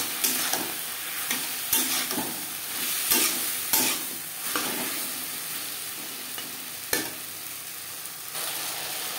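Green banana stir-fried with green chili paste sizzles steadily in a pan, while a spoon scrapes and stirs in irregular clacks and knocks close by.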